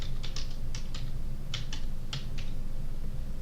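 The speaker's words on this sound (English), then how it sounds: "I'm going to type in Passion of" Someone types a search on a computer keyboard: a dozen or so crisp key clicks in quick, irregular clusters over a constant low background hum.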